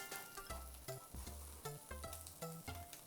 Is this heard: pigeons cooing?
no